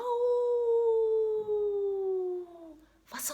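A single long, gliding howl imitated by a human voice, slowly falling in pitch, followed by a brief noisy burst at the end.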